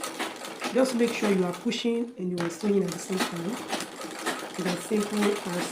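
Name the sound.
sewing machine sewing bust cage bones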